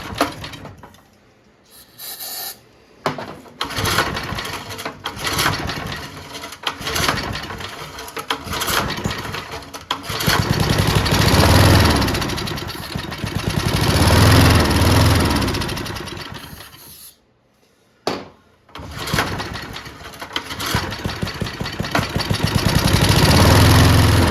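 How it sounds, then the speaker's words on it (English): A junkyard lawnmower engine runs roughly, struggling at high RPM, revving up and down with sputters and brief cutouts, loud and close throughout. "Doesn't like that high RPM, huh? Like the motor sounds okay."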